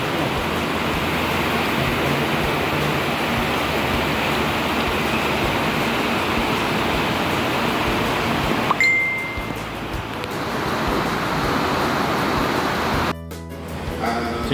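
Heavy rain pours down in a dense, steady hiss for most of the stretch, briefly dipping before resuming, with no clear talk.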